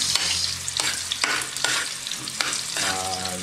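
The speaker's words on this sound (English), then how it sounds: "we're gonna put the onions. I'm gonna stir a little bit" Onions frying in a pan give a steady close sizzle, broken by repeated scraping strokes of a spoon stirring them at an even pace, with no voices.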